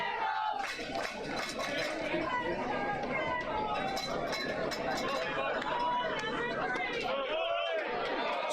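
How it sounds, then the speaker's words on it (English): Baseball stadium crowd at a night semifinal game between the Victoria Generals and Brazos Valley Bombers, a steady dense wash of chatter and cheering that stays loud and continuous throughout. "That crowd is here tonight."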